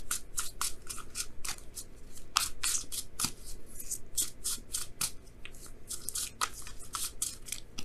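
Tarot cards being shuffled and drawn close up, giving a steady run of quick crisp riffling and snapping strokes with brief pauses between bursts.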